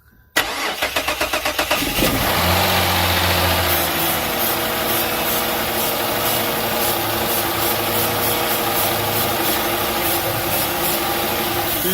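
A car engine cranks over steadily for many seconds without catching, a loud continuous rhythmic whirring starter drone with a fault in the fuel pump, close and unbroken.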